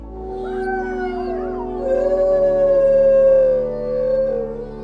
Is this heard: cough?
no